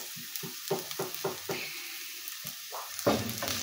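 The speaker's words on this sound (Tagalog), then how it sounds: "Gisa-gisa lang natin. Gisa-gisa. Hanggang mag-brown siya" Garlic sautés in a hot pan for squid adobo, a low crackling sizzle broken by repeated spatula strokes and scrapes at an uneven rhythm.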